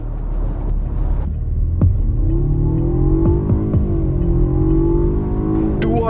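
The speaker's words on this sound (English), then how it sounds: "Click down the paddles a few times, get into the boost range of the turbo." A 2020 Jaguar XE's turbocharged engine drones and climbs in pitch as it accelerates through paddle-shifted gears, with brief breaks at each shift, loud and close from inside the cabin.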